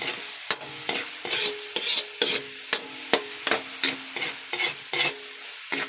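Onions frying in a pan for Filipino sisig, with a steady sizzle and a regular rhythm of spatula stirs and scrapes, close and fairly loud, and no voices.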